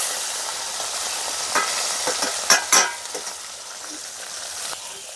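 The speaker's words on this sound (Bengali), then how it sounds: "বাকি মাছগুলো ভেজে নেবো।" Small puti fish fry in oil in a village-style kitchen, a continuous bright hiss of sizzling with a few louder spits and crackles near the middle, close by and without speech.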